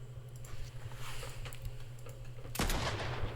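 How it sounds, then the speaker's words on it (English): Monarch pistol shots in a Fortnite match, a series of sharp gunfire reports over a steady low game hum, with a louder burst near the end. "Make some good shots here with that Monarch."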